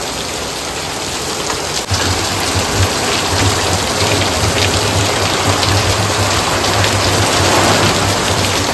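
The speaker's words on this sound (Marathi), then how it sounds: "मुसळधार पावसाची सुरुवात झालेली आहे. पावसाच्या धारा बघा कशा पडतात." Heavy monsoon rain pours down steadily over a Mumbai chawl, a dense, loud, continuous roar of water with no break or voices.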